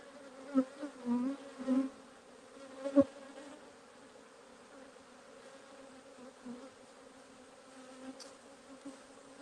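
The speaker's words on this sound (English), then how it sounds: "These bees aren't happy, but they're treating me okay." Bees swarm around an opened beehive as a beekeeper inspects the drone brood, making a steady, close buzz with several louder swells as individual bees pass near, then a quieter hum.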